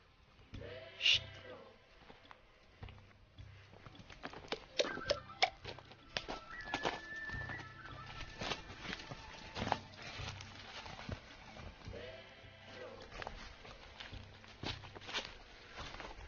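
Donkey hooves clop irregularly on hard ground as it walks, with soft rustling and faint background sounds between steps.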